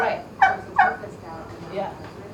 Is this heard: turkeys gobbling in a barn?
yes